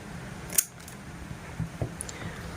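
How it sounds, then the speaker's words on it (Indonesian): Scissors trimming the end of a LAN cable: one sharp snip followed by a couple of softer clicks and small handling sounds in a quiet room. "Kemudian seperti biasa kita gunting ujungnya agar terlihat lebih rapi."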